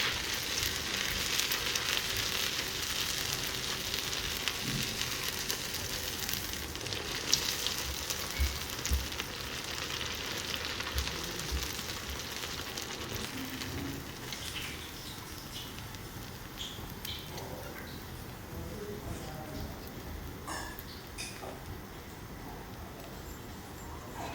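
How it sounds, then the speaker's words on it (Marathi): Sabudana vada deep-frying in hot oil give a faint, steady bubbling sizzle throughout, fairly quiet and distant, with a few small clicks and no talking. "याचप्रमाणे बाकी सगळे वडे आपण तळून घेणार आहोत"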